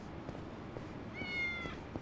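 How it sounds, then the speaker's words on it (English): A cat meows once in the video game Yakuza: Like a Dragon, a single short, clear, high meow rising over quiet background ambience, with no voices. "Wait, I hear a cat."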